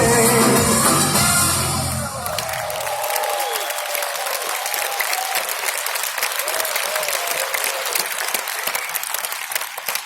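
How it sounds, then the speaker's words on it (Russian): Concert audience applause at a radio station's celebration show, as the music's final sustained chord dies away and broad, dense clapping carries on steadily and fairly loud for the rest of the stretch. "Ваши аплодисменты."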